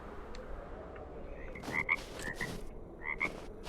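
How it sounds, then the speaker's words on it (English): Frogs croaking in the video game 7 Days to Die, Alpha 20 modded, near water; several short, faint, ringing croaks come in small clusters over a soft, constant ambient hiss, with no voices. "He's got frogs."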